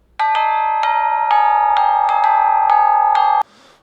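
An electronic doorbell plays a chime tune of repeated bright tones, loud and close, ending abruptly with a short burst of noise.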